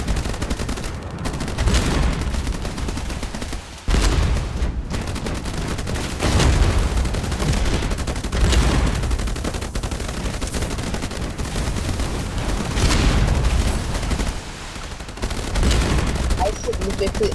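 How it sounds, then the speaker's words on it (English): Missiles launching and exploding in the naval combat video game Age of Water, a dense, continuous barrage of loud bursts and rumbling blasts with brief dips, while a voice talks over the action. "Ow, missiles."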